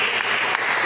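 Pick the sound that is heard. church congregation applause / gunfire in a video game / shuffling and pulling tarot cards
church congregation applause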